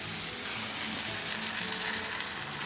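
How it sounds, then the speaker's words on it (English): Canned organic Great Northern beans, liquid and all, hit a hot pan, giving a steady, close sizzle and frying hiss that holds evenly throughout with no talking. "Now we're going to add a can of organic Great Northern beans,"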